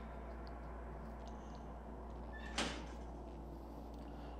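An enemy yanks open a locker door in the Outlast video game: a single brief metallic clack rises sharply out of a low, quiet hum and dies away at once.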